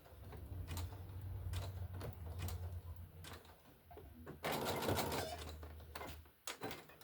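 A sewing machine runs in short bursts of back stitching, its steady mechanical whir rising and pausing, with a louder rattling stretch partway through and no talking.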